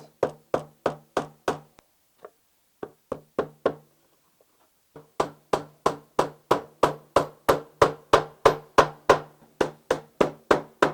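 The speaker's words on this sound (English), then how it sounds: "Using the small tack nails, you will simply hammer your leather to the back of the sheath." Steady hammer taps on small tack nails through leather into the back of a wooden knife sheath, a quick run of sharp knocks, a brief pause, then a long even series of close, crisp strikes.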